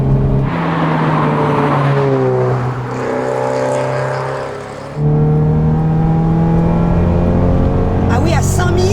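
Toyota GT86 engine revving under load with a strong harmonic drone that rises and falls, then surges again, with occasional exhaust crackles near the end; people talk over it.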